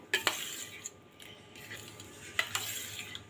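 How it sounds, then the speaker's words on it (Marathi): A metal spoon stirs jaggery into a mango kheer mixture in a pot, giving a few sharp clinks and scrapes against the vessel separated by quieter swishing. "गूळ छान मिक्स करून घ्यायचं आहे"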